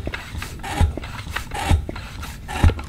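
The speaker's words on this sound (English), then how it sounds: "So I keep pumping up my tire until I get to" A bicycle tire being inflated with a hand pump, with rhythmic rasping strokes and a soft thump at the end of each stroke, about three strokes heard close up.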